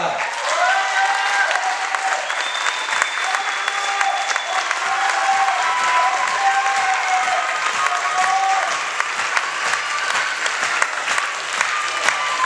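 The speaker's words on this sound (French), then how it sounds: "Un tonnerre d'applaudissements pour Mister Amar." Continuous, dense applause from an audience at an evening entertainment show in Port-Camargue in summer 2009, loud and sustained for the whole stretch, with faint tones and voices mixed underneath.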